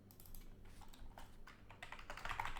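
Code being typed on a computer keyboard: a quick, continuous run of soft, close keystrokes that grows slightly louder and denser toward the end.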